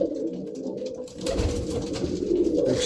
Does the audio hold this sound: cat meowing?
no